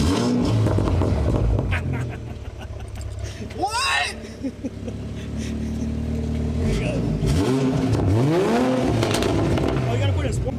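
A 2020 Toyota GR Supra starting up and revving, with a sharp engine bark rising and falling in pitch, then repeated loud throttle blips sweeping up and down; people talk inside the car over the engine.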